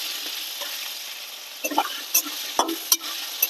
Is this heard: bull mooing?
no